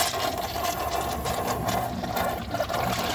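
A defective 1996 Crane Hymont toilet flushes a washcloth, giving a steady rushing, gurgling water roar that holds at a constant level for about three seconds with no talking.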